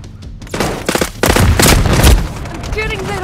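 Bursts of rapid automatic gunfire and booming shots from a Call of Duty MW3 hardpoint match, loud and dense, with game voice callouts mixed in.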